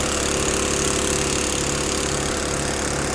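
A gold dredge engine runs steadily at the river, giving a loud, constant droning hum with a fast even vibration and no talking.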